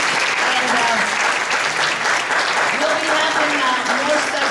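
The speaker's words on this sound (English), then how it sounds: "let's give a round of applause to our guest speaker, Rubin" Steady applause from a synagogue audience at Temple Emmanuel for a guest speaker, an even, unbroken wall of clapping with faint voices beneath it throughout.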